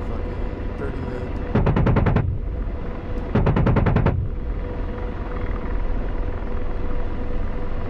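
Two bursts of 30mm cannon fire from an AH-64 Apache gunship in the DCS World flight simulator, each a rapid, loud, rattling volley about a second long, over a steady helicopter rotor drone.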